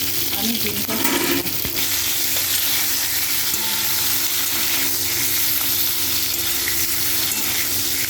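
Eggs frying in hot oil in a pan, a steady dense sizzle and crackle throughout with a brief clatter of stirring near the start.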